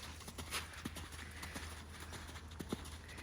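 Horse hooves clip-clop in a steady canter rhythm around an arena, a mare moving at moderate distance over a constant low hum, with occasional sharper footfalls.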